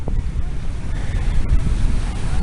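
Ocean surf and wind on the beach at Nha Trang, Vietnam, make a steady, broad rush with wind buffeting the microphone throughout, and no clear voice over it.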